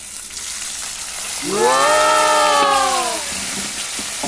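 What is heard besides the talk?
tomatoes sautéing with onion and garlic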